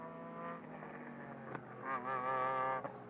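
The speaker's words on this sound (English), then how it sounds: "You can hear the Mitjet Super T making a fantastic noise, actually, with its little Yamaha engine" A Mitjet Super T race car with a small Yamaha engine buzzes past on the circuit at Motorland Aragon, a thin high-revving whine that steadies, then rises and swells as it nears.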